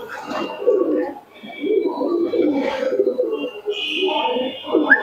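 Large, big-sized pigeons of a tournament-flying Andhra breed cooing in a loft, soft repeated throaty coos close by, with faint voices in the background.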